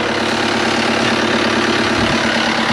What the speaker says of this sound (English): this engine's idling right now, and it's amazing to me how quiet it is